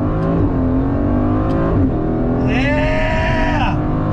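The front-mounted V8 of a 2021 Aston Martin Vantage Roadster roars continuously close up under launch control, its pitch sweeping upward as it accelerates hard through the gears.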